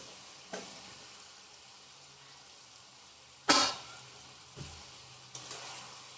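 Low, steady frying hiss of eggplant in oil with spice paste, broken by a sharp loud sizzle burst midway and a few softer scrapes of stirring, fairly quiet and close, with no voices.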